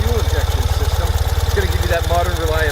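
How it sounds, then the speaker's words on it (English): A 2020 Ural motorcycle engine idles close by with a steady, low, throbbing pulse, and someone talks over it. "I'm going to fire it up and let you hear this bike idling"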